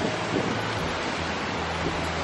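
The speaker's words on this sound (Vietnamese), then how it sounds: "gần thác thì nước bay trắng xóa các bạn ạ" Spray from a waterfall in Cao Bang roars in a dense, steady broadband rush, loud and close like wind and surf, with no speech.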